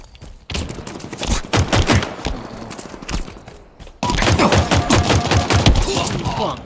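Rapid game gunfire from Halo Infinite free-for-all slayer, including shotgun blasts, fires in dense bursts of sharp cracks, with a short pause before a louder, more continuous volley.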